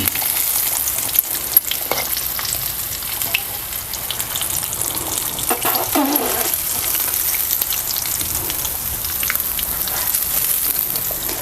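Rohu fish pieces fry in hot oil, a continuous dense crackling sizzle close up with occasional spatters and utensil scrapes, no talking.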